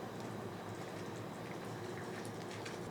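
Prawn gravy with hot water, salt and garam masala boils steadily in a pan, a dense continuous bubbling and crackling that stays close and even, with no voices.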